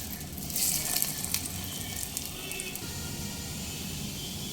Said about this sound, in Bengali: বাকি কোপ্তাগুলো একই রকমভাবে ভেজে উঠিয়ে নেব